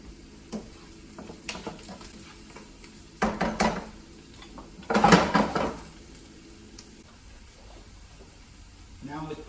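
Grated onions being stirred in a pan for Salisbury steak, soft scraping and clattering bursts of a utensil against cookware with a faint sizzle, quiet between strokes.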